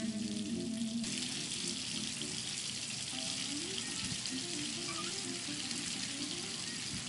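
A water tap fills a bath in the video game Life is Strange 2, a steady close rush of running water that holds without a break, with faint game sounds underneath.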